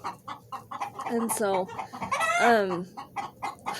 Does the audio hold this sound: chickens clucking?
yes